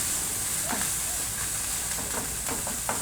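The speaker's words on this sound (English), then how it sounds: "Just fry it for about 30 seconds until the rawness goes off here, because there is not a lot of onion." Onion with butter chicken spice mix fries in a pan, producing a steady hissing sizzle under a few brief clinks and scrapes, close and fairly even throughout.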